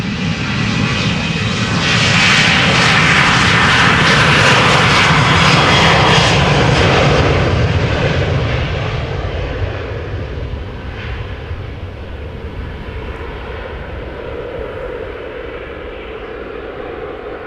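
A KLM Embraer E190 jet roars at full power on the runway during an aborted takeoff at Amsterdam Schiphol, a loud sustained engine rush that peaks and then gradually eases off without any voices.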